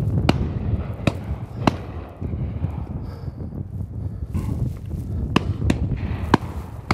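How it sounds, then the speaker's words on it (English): Shotguns fire at a field sports shoot, a scattering of sharp distant cracks spaced irregularly over steady outdoor wind noise. "Oh, good shot, Wilson."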